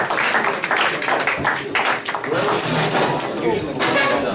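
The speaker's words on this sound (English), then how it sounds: "Give him a round of applause." A comedy club audience applauds and cheers as a comedian is welcomed to the stage, a dense, steady wash of clapping and crowd noise lasting throughout with voices mixed in.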